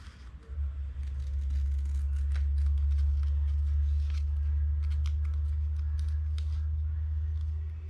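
Snips or scissors trim a body part for a figure 8 race car being rebuilt at the back, giving a run of close, irregular cutting clicks over a loud steady low hum.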